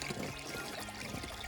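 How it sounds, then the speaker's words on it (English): Glacier meltwater running in Iceland, a steady broadband rush and trickle that fills the whole clip at moderate level, with no voices over it. "It's running water."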